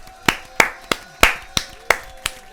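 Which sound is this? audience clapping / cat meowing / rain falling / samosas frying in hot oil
audience clapping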